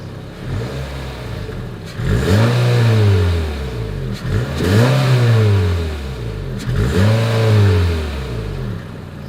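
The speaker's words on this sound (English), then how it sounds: "Here is that exhaust clip." Exhaust of a 2021 Honda HR-V revving three times in a row, each rise sweeping up and falling back, loud and close with no talking.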